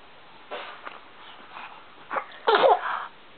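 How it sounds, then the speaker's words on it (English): A five-month-old baby makes small breathy sniffs and whimpers, then lets out one sharp, louder sneeze near the end, all close and quiet. "Was that just the biggest little sneeze?"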